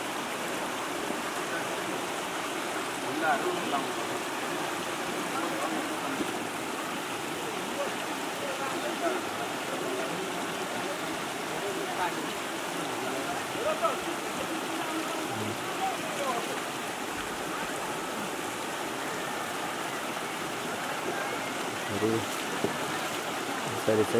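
Water gushes steadily from two pipes at the Kokaha spring source near Dharan, Nepal. It makes a continuous, even rushing sound at moderate level throughout.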